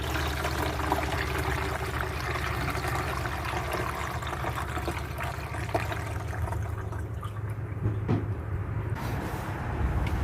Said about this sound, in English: there's not much coolant that needs to be added, so I'm going to add a little bit